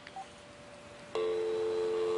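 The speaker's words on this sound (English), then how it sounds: "I'm going to dial the number, and I'm going to have it on speakerphone." Phone number dialed on a speakerphone through an Obihai 200 VoIP adapter, with a few faint short tones at first, then a loud steady dial tone that sets in and holds.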